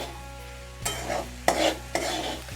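A spatula stirs an okra and onion stir-fry in a pan, giving three distinct scraping strokes over a soft sizzle. The strokes fall at roughly even intervals and sit close and fairly loud.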